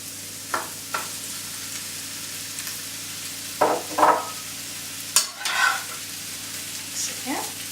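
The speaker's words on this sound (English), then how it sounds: "And then I'm going to put the peppers in." Peppers hitting a hot pan in a Chinese stir fry, with several short bursts of sizzling and stirring scrapes spread across the clip over a steady low kitchen hum.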